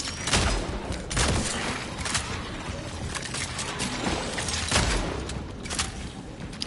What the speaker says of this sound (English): I'm shooting that thing like it's going to make a difference